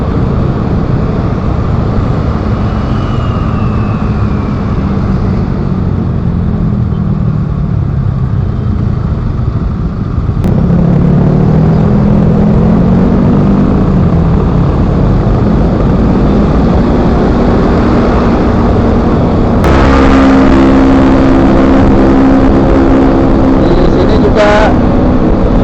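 Busy but flowing road traffic streams past, with a constant engine and tyre wash, passing vehicles rising and fading, and a louder stretch midway, while a voice talks over part of it.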